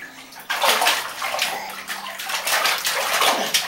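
A child splashing and sloshing water in a bathtub at close range, with repeated bursts of splashes in an irregular rhythm, loud and without talking.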